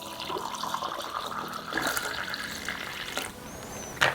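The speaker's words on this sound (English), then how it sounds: "We're going to go ahead and fill up our washer fluid here." Washer fluid is poured into the reservoir of a Ford Focus, a steady close-up gurgling stream of liquid that shifts in tone as it goes on, ending with a brief splash.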